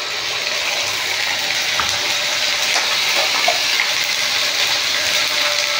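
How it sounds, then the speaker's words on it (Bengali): Water poured steadily into a ground curry spice paste of chilli powder, turmeric, ginger, garlic and cumin for a village-style egg and potato curry, making a continuous close gushing splash with no talk. "একটু জল দিয়ে দিলাম।"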